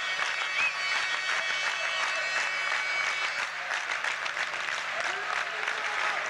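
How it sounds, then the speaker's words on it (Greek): Basketball crowd in the stands at a 1984 Greek league game between Ionikos Nikaias and PAOK, applauding steadily and shouting rhythmically throughout, a dense, continuous roar of clapping with voices mixed in. "Και ο κόσμος στις εξέδρες που συνεχίζει να χειροκροτεί και να φωνάζει ρυθμικά υπέρ του Ιωνικού."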